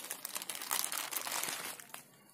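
A microphone being unboxed, its plastic safety packaging crinkled and popped in a close, crackly burst of dense rustling that rises and then fades out near the end, with no talking over it.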